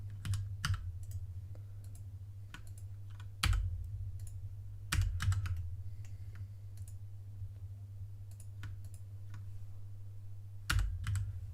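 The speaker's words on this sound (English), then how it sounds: "whatever our keyboard clicking sounds" Fast bursts of computer keyboard clicking and typing, close and fairly quiet, with a few sharper key strikes over a steady low hum.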